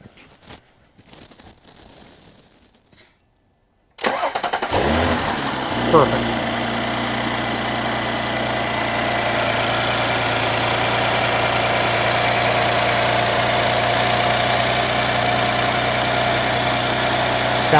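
Audi SQ5 3.0L TFSI turbocharged V6 after a spark plug change cranks after a brief pause, then settles into a steady, loud idle with a low hum and constant mid-range whine; a voice speaks briefly before startup.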